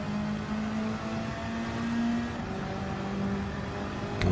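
A Toyota Supra GT500 race car engine drones at steady throttle around Trial Mountain Circuit in a racing video game, a loud, continuous hum that holds fairly even with slight swells.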